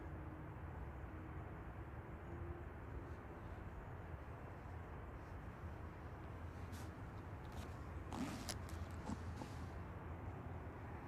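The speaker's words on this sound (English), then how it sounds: "Thought I could hear a private jet starting up." Steady, continuous engine roar from a Loganair aircraft at Manchester Airport, a broad even rumble filling the whole stretch with no talk, a few brief faint clicks near the end.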